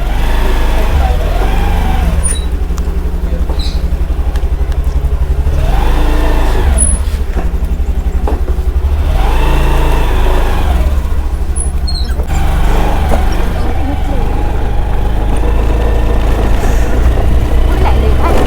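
A Honda Activa scooter heard while riding, its engine a steady low drone with rushing wind noise, loud and close the whole time, with periodic rises in pitch and a few faint high chirps.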